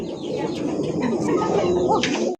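Large magpie pigeons at a pigeon farm coo nearby in a continuous, throaty, rolling murmur with soft flutters that lasts the whole moment.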